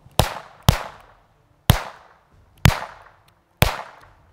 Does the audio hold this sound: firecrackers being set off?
yes